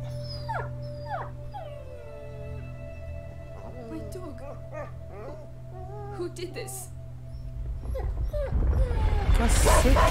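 A dog in the video game A Plague Tale: Innocence whimpers and lets out rising, wavering howls, with whiny yelps at moderate loudness, before a harsh rushing noise swells at the end.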